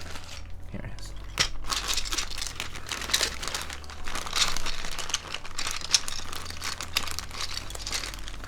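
A plastic bag of keyboard keycaps crinkles and rustles in repeated close bursts while a keyboard is being built, with light clicks and a voice faintly audible in the background.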